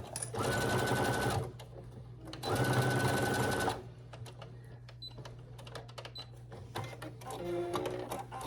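Sewing machine running two loud, close bursts of rapid mechanical stitching as it back stitches a summer tote seam, each about a second long, followed by quieter handling noises.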